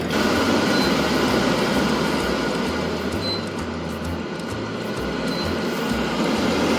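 An AIRTHEREAL portable rechargeable desktop range hood fan runs at high speed, giving a steady, close, even whoosh of air with a low hum underneath and no change over several seconds.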